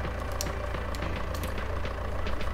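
A vehicle engine idles in Farming Simulator 19, a steady low droning hum with faint higher clicks, continuous and fairly loud throughout with no talk.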